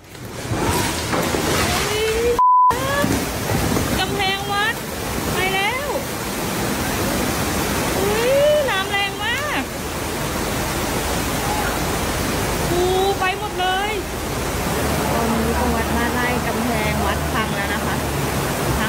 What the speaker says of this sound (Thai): บันทึกนาทีระทึกเอาไว้ตอนที่น้ำท่วมทะลักกระทั่งกำแพงวัดพังถล่มต่อหน้าต่อตาครับ